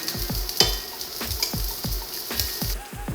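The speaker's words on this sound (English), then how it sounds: "place your longanisas in there. Have fun with it, roll them around, make sure they're covered in oil" Longanisa sausages frying in hot oil, a steady bright sizzle broken by a regular series of sharp clacking knocks roughly every few tenths of a second as they are rolled around the pan, close and fairly loud.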